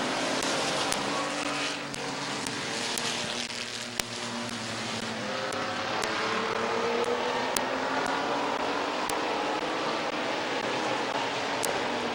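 Race trucks circle the oval at Midvale Speedway, a steady, fairly distant roar of engines that swells and fades slightly as the pack passes, with faint rhythmic clicks throughout.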